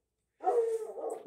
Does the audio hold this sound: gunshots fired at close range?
no